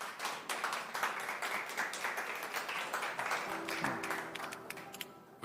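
Steady clapping from a crowd welcoming a candidate at a political party presidential primary event, a dense patter of many hands that carries on for several seconds at a moderate level before thinning toward the end.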